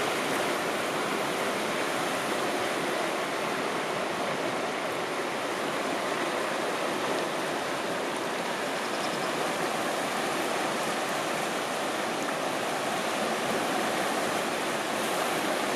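Water swirling in a gold pan with black sand at an outdoor stream, a continuous dense rushing wash that stays even and steady throughout, close and moderately loud.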